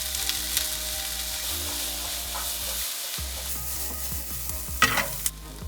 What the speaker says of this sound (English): The oil is hot, let's get in our onions.